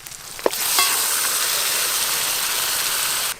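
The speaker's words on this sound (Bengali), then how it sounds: "মশলা মাখানো খাসি মাংস এবার কষে রাখা মশলার মধ্যে দেব," Spice-marinated mutton dropped into fried spice paste, a brief clatter and then a loud, sustained sizzling hiss of frying that holds steady to the end, close by.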